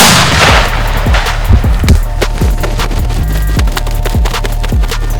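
A shot fired at wild turkey gobblers during a field hunt: a loud, sharp blast right at the start, followed by a run of repeated thumping, clattering knocks that carries through the rest of the clip.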